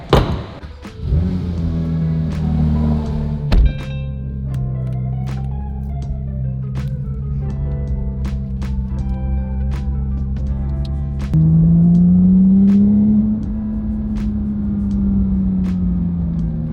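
A Porsche 992 GT3 flat-six fitted with a titanium JCR exhaust, revving loudly and alone in a steady, harmonic-rich tone, with one sharp blip early on and a louder, rising pull near the end; the engine is still new and held below full revs.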